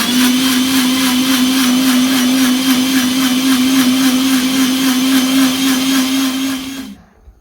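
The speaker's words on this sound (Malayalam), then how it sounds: "പിന്നെ മൂടി അടച്ച് വെച്ചിട്ട് നന്നായിട്ട് മിക്സി അടിച്ചെടുക്കുക" A mixer grinder whirs loudly at a steady pitch for several seconds blending shawarma sauce with its lid closed, then switches off and quickly winds down to silence.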